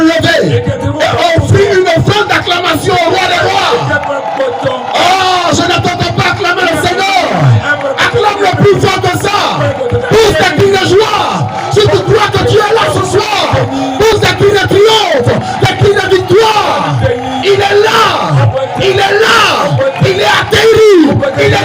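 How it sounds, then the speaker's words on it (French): A church congregation roars with cheering and shouting in acclamation, a loud, sustained wall of yells and crowd voices with a preacher's voice mixed in. "offrir une offrande d'acclamation au roi des rois"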